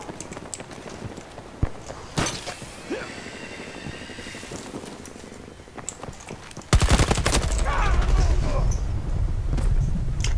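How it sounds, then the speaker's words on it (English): Gunfire in the shooter game Battlefield 2042, with scattered shots and a dense loud burst late on, mixed with game noise and someone talking over it. "If I could stop getting shot from behind for one fucking second."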